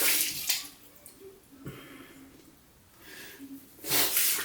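Water splashes against the face during rinsing after a razor shave, in wet bursts at the start and end with snorting breaths and small drips in between, all close by.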